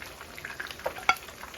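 Fish and garlic frying in hot oil for Easter, with a steady low sizzle and a few sharp clinks of stirring or turning standing out near the middle, close by and without talk.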